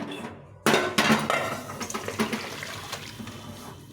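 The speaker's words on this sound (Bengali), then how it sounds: "এখন ঝোলটা নামিয়ে দেবো।" A pot of fish curry is lifted off a stove with a sudden metallic clank, followed by a few fainter clinks and scrapes of cookware that fade out.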